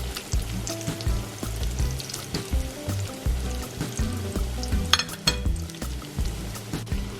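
Pork pieces frying in a pan over low-to-medium heat for Japanese deep-fried pork, with a steady crackling sizzle throughout, close and moderately loud, and no talking.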